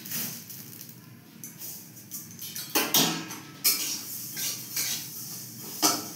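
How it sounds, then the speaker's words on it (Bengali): Flaxseed dry-frying in a wok, lightly roasted, gives off irregular metallic clinks and scrapes as it is stirred, with a soft hiss underneath and a few louder knocks against the pan. "তিসিটাকে ভেজে নিচ্ছি। বেশি ভাজবো না, অল্প ভাজবো।"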